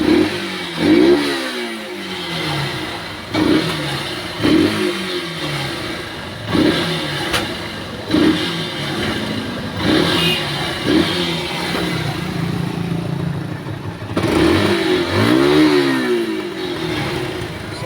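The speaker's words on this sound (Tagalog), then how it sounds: "Yan, start muna natin no. So, umaandar naman." A motorcycle engine running with a stiff throttle cable and a fault that makes it misfire and stall under throttle, repeated revving surges rising and falling every couple of seconds over a rough idle, close and loud, no talking.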